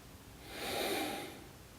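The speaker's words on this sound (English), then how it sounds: "Now, give it another sniff." A single slow, close sniff of wine from a glass, rising and fading over about a second.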